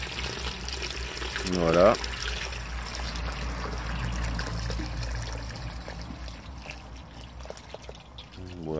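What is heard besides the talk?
filling a 5-litre container with water over grass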